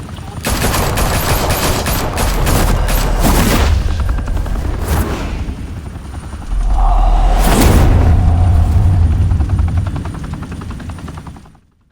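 Bursts of gunfire rattle out beside a loud, steady helicopter rotor in the Batman Telltale Series video game. Dense shots fill the opening seconds, then the chopping rotor swells and carries on, with a voice briefly heard.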